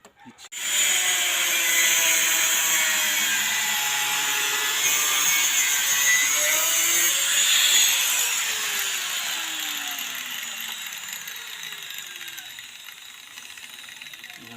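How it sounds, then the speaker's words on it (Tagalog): An angle grinder cuts apart scrap metal to free the aluminum inside, giving a loud, steady high-pitched whine that holds for several seconds and then eases as the cut slows, with a faint low voice underneath. "titirahin na naman natin ng grinder para makuha yung aluminum"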